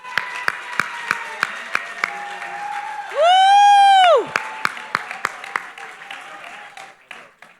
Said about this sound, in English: could we give a round of applause for John Sam?